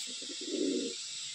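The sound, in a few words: Madrasi pigeon cooing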